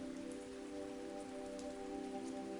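Steady rain falls in a soft, even patter with scattered droplet ticks, faint and continuous, accompanied by a sustained tonal hum and no speech.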